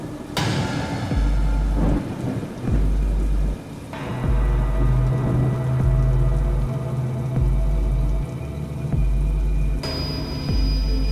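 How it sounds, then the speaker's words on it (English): Heavy rain pours steadily outside while deep thunder rumbles and booms repeatedly, forming a continuous stormy wash with rolling low crashes throughout. "As the rain poured heavily outside"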